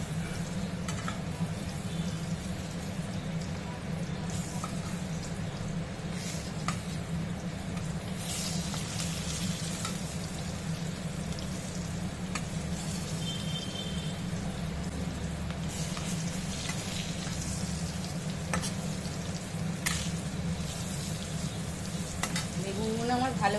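Small eggplant pieces fry in a pan with a constant, even sizzle that runs unbroken for over twenty seconds, broken now and then by light stirring clicks and taps, with no voices.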